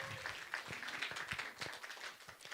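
An audience in a church service claps in dense, continuous applause that stays fairly faint and even for the whole stretch.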